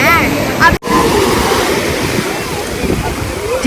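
Sea waves wash up onto a beach in a steady roar, mixed with gusty wind buffeting the microphone and a few brief voices nearby.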